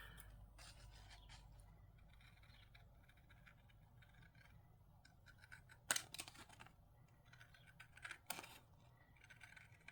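Scissors cut out a long printed paper piece for a DIY miniature kitchen and dining craft kit. Soft, close rustling and scraping build to a couple of sharp snips near the end, with no talk.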